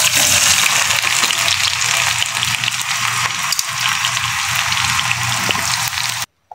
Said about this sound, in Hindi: जब आपका ऑयल गर्म हो जाए तो आपने इसमें प्याज ऐड कर देनी है